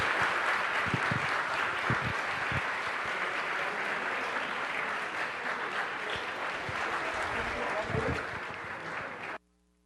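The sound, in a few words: round of applause at city council meeting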